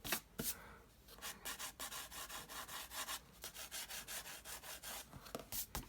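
An eraser rubs over paper on a pencil landscape sketch, making soft, close scratchy strokes in quick bursts with brief pauses between runs.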